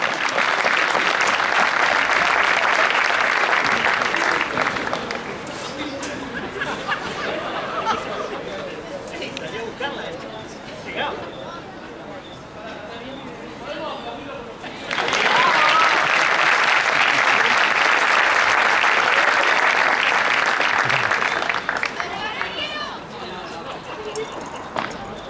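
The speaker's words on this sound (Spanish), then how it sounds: "un aplauso fuerte porque..." Audience applause at a padel exhibition match in Neuquén, two loud bursts of clapping from the crowd with chatter and a commentator's voice in the quieter gap between them.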